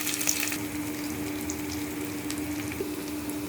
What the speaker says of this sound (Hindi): मैं इसमें डाल रही हूँ जीरा, और जो मैंने प्याज कट कर लिया था ये डाल देती हूँ और इसको भून लेती हूँ।